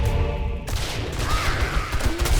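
Gunfire in the 7 Days to Die video game with the Rebirth mod, dense bursts of shots and booms filling the clip with loud, steady rumbling energy and no talk.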